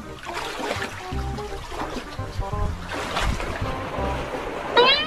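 Waves wash and surge against a white-sand beach resort shore in a continuous rough rush, with voices faintly audible in the background.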